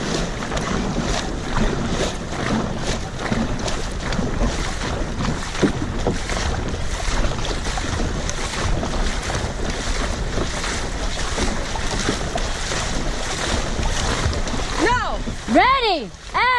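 Paddles dig through water as a boat crew races in a practice run, with steady rushing water and wind noise throughout and voices calling out over the splashing.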